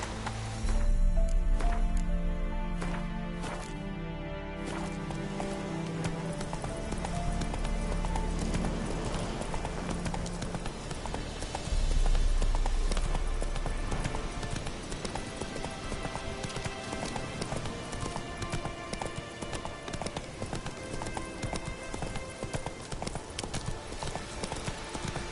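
Roach the horse gallops in The Witcher 3, a steady rapid clip-clop of hooves running throughout over game music and ambience, with brief talk at moments.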